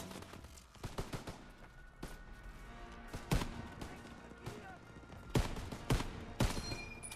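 Gunfire rings out in the Call of Duty WW2 D-Day landing campaign, with sharp, scattered shots and bursts, some loud and close, over a constant battlefield rumble.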